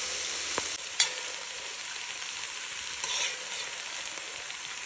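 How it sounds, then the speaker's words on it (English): Garlic and cherry tomatoes sauté in a pan with a constant bright hiss of oil, broken by a single sharp clink near the start and a brief flare of spatter later. "I'm going to saute these a little bit."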